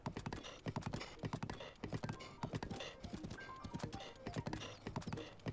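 Horse hooves clip-clop steadily across mountain ground in Zelda: Breath of the Wild, a brisk, even rhythm of sharp hoof strikes running through the whole stretch, with the odd snort over a low game backdrop.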